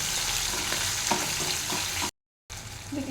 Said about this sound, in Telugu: ఈ టమాటాలు ఈ ఆయిల్లో కొంచెం ఫ్రై అవ్వాలి